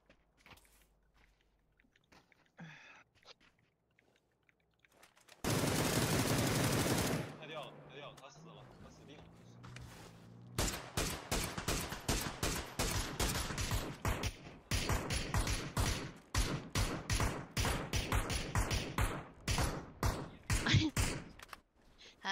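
Rapid gunfire bursts in a shooter video game, a loud dense stretch of shots followed by long runs of sharp repeated shots, with brief quieter gaps and faint sounds before.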